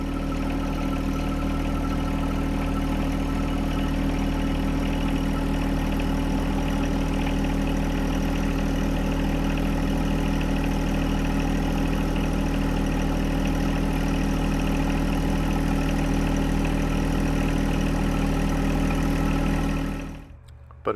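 A John Deere 1025R compact tractor engine runs steadily and loudly while towing a trailer forward, a constant low droning hum that continues until it cuts off abruptly near the end.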